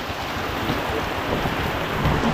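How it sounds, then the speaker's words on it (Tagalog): Dense, steady downpour roars continuously, close and heavy, with a low rumbling undertone of thunder beneath the rain, with lightning. "Lakas ng ulan. Oh, kidlat."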